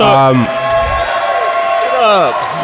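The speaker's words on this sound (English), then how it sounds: "clap it up for Smack Talk Showdown" At a PAX Unplugged gaming convention event, the crowd claps and cheers for a card game while a loud voice calls out over the noise, with clapping and whoops continuing beneath the talk.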